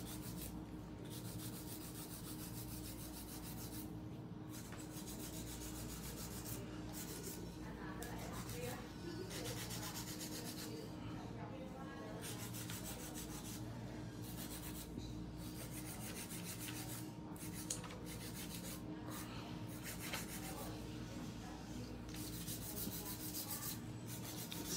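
Steady rasping of a nail file working across nails in a nail salon during an acrylic or gel fall nail set, continuous and close, with occasional soft talk underneath.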